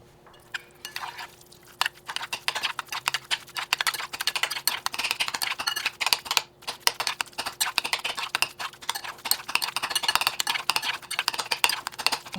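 Dense stirring and scraping of ingredients being mixed together, a steady run of quick clicks and scrapes close by, fairly loud and continuous with one brief pause, no talking.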